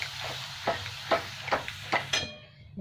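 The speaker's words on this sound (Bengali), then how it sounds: "এবার ভালো করে নেড়ে নিচ্ছে" Okra and yogurt get stirred in a pan on a switched-off stove, with five or six evenly spaced spatula scrapes over a low, faint background, close by and with no talk.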